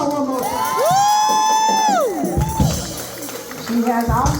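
A crowd cheers for a speaker with loud whoops and a long rising shout over scattered clapping and excited voices that swell, dip, then pick up again.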